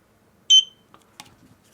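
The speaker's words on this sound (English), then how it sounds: "Press the Eufy sync cam. button until you hear the beep." A Eufy security camera gives one short, loud, bright electronic beep when its sync button is pressed, followed by faint handling clicks and rustles.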